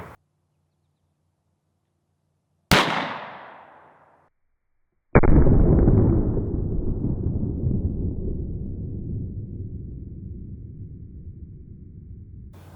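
Two gunshots fire 115 grain Speer Gold Dot ammunition outdoors in a backyard. Each is a sharp, loud crack, and the second is followed by a long rumbling echo that slowly fades.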